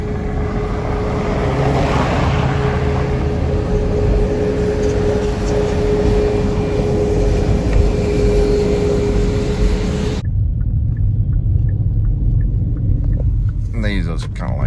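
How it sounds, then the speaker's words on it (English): A Southwest Airlines airplane gives a heavy, continuous rumble at an airport, loud and steady for about ten seconds before cutting off abruptly. "Oh, look. It's a Southwest airplane."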